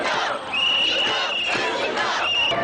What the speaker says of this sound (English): rallying crowds swamp the streets in the biggest anti-Wall Street demonstration